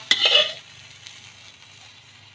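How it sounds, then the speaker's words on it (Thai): Bacon-wrapped enoki mushrooms frying in a pan: a sharp clink and short burst of frying at the start, then settling into a quiet, low sizzle. "แล้วเราก็เอาไปทอดให้เสร็จนะครับ"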